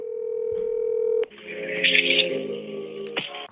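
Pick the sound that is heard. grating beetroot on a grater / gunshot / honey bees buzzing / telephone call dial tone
telephone call dial tone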